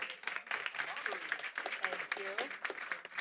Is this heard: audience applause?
yes